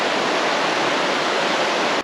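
The Aluminé river flows in a steady, dense wash of rushing water, loud and close, with no voices over it.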